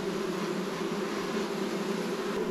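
Honey bees buzzing in a dense, steady drone during a transfer from a Langstroth hive to a top bar hive, close and continuous with no talk.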